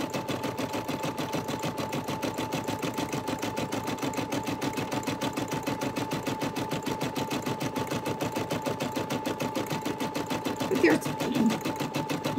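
A Brother SE 400 embroidery machine stitches a 4x4 design in a rapid, steady mechanical rhythm that runs without a break, close and clear, while people talk over it.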